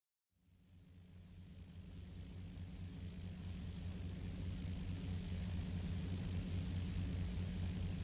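A Grumman AA5b Tiger's propeller engine in a flight simulator, flying over the Bay Area's California foothills at dusk: a steady, loud droning hum fades in after a moment of silence and holds evenly, with no talk.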